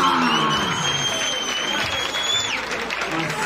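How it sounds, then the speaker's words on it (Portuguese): A crowd at a rap battle breaks into applause and cheering, a loud, dense wash of clapping with a shrill whistle and excited voices mixed in. "Uma salva de palmas!"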